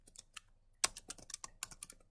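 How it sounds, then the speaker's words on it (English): Rapid typing on a computer keyboard, a close, uneven run of crisp key clicks with a few heavier strokes and short pauses, with no voices. "See, I don't even have to finish typing it."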